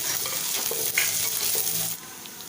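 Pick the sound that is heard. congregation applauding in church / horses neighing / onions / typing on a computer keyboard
onions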